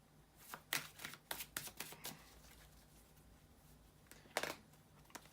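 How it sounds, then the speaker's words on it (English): Tarot cards are shuffled by hand close up in a quiet room, a series of quick riffling bursts and soft taps, pausing in the middle and then returning with one more riffle. "bear with me a second, guys, to shuffle the tarot cards"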